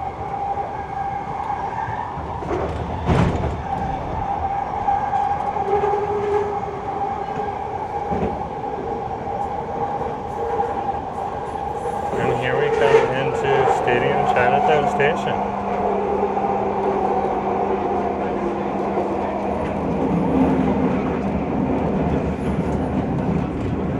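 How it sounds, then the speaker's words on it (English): A train rumbles past at length with a steady mechanical drone, squeals and a rising rush midway, heard from inside a moving Vancouver SkyTrain railcar with faint talk. "There's another passing train."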